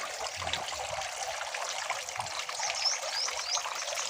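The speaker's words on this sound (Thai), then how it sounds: "สูบน้ำขึ้นมาแล้วทำกองนะครับ ทำกองแล้วก็ กองอีกชั้นหนึ่งนะครับ เราจะให้น้ำหยดนะ" Water trickles and splashes steadily in a recirculating catfish-farming system where pumped water drips through stacked layers, a continuous close hiss-like babble with no talk.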